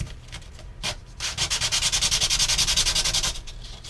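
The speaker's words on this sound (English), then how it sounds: "Like I said, it can take you a minute to sand it enough." Sandpaper rubs over thin wood sheeting on a model airplane wing from a Guillow DC-3 kit. A few scattered strokes lead into a steady run of quick, even back-and-forth rasping, close and fairly loud with no talk.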